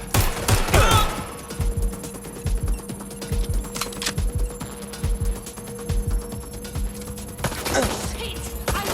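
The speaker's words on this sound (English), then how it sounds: "Taking fire!" Rapid bursts of automatic gunfire in the video game Watch Dogs Legion, dense sharp cracks firing almost continuously with a few louder shots, close and loud.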